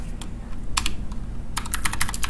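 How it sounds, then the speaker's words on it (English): Quick bursts of keystrokes as a password is typed on a computer keyboard at a Linux terminal: a few scattered taps, then a dense clicking flurry near the end, close and clear over a low steady hum. "type in your password"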